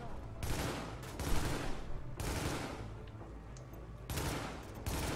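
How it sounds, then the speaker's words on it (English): Sniper gunfire in the video game Tom Clancy's The Division: several sharp shots, some in quick bursts, separated by short pauses over in-game background noise. "Using sniper shooting on the left."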